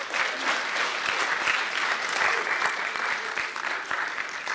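Sustained applause from a university commencement audience at a fall graduation ceremony, dense steady clapping that fills the hall at an even level for several seconds without letting up.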